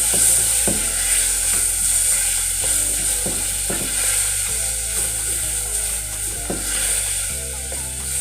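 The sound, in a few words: tomatoes sizzling as they are added to a frying pan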